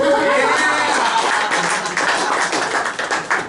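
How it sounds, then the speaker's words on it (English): Studio audience at a stand-up comedy show in Chicago clapping on cue, a dense, steady patter of many hands filling the room for a few seconds, tapering slightly toward the end. "clap it up if you're circumcised"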